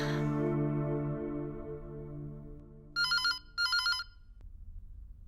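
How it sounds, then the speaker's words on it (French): A telephone rings twice in two loud, bright electronic bursts with a short gap between them, following a fading sustained tone, in an indoor scene from a French drama. "vas-y, décroche ton téléphone"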